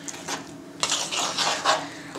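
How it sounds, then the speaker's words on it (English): A spoon stirs a thick rolled-oats protein-bar mixture in a bowl, giving irregular scraping clinks and knocks, close and fairly quiet. "So just keep stirring"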